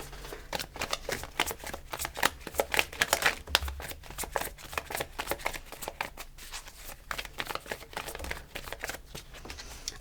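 Tarot cards shuffled by hand up close, a steady stream of quick riffling, slapping card sounds that continues with little pause, with no talk.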